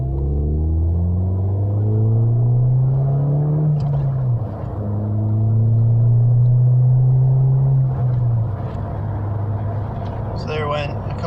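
A 2018 Ford Fiesta ST with a J2 Engineering cat-back exhaust drones steadily from inside the cabin. The engine note climbs, drops sharply at one gear change, climbs again and dips at a second shift.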